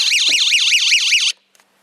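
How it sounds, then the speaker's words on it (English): A building's entry alarm sounds the moment someone steps inside, a loud, close electronic tone warbling up and down in a fast regular cycle for over a second before cutting off abruptly, followed by a couple of faint clicks. "Now there will be an alarm immediately when you go inside."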